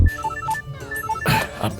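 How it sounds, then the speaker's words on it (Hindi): Telephone ringing with a short electronic tone pattern of alternating beeps, moderately loud and close, partly overlapped by other background sounds. "अब कौन फोन कर रहा है?"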